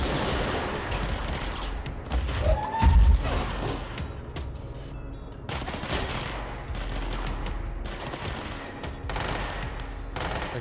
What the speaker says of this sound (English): Come on, Wells, keep firing.